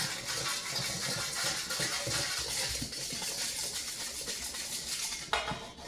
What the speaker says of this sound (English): Now, I'm gonna mix that all up.